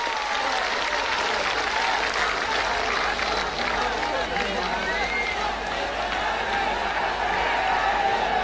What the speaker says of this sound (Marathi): जोरदार टाळ्या वाजवायच्या आपण सगळे